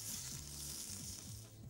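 Onion softening in a pan with a steady, close hiss of gentle frying that runs unbroken and fairly faint, joined by a few light scraping stirs.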